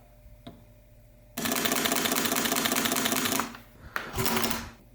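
Sony Alpha A7II mirrorless camera shutter clattering in a fast continuous burst for about two seconds after a quiet start, followed by a shorter second burst; close and fairly loud, with no talking.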